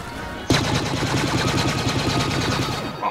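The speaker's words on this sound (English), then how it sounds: "I am getting shot at." Sustained rapid blaster fire from Star Wars Battlefront gameplay erupts suddenly and continues as a steady rattling stream of shots, loud and close.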